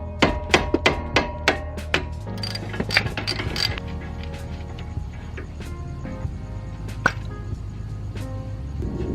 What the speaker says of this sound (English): just hit it with a rubber mallet to break it loose